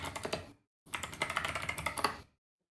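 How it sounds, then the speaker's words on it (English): Typing on a computer keyboard comes as a quick, close run of clicking keystrokes, then a short pause, then a longer, denser burst before it stops. "Can you hear my typing?"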